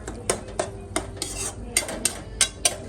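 A metal dish clinks against a pan as it covers paneer bhurji cooking in a home kitchen, a quick run of light, close metallic clatters.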